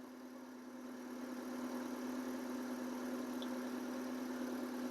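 A car engine idles steadily at about 1100 rpm with a faulty O2 sensor, a smooth continuous hum with a strong low drone, close and unchanging for the whole stretch, with no talking.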